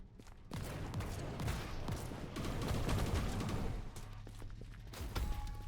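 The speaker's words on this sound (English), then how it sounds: "more like a quick shotgun, maybe" A scatter-type shotgun in a video game fires in rapid dense bursts, with crackling booms and thuds piling up over several seconds, loud and close with no talk.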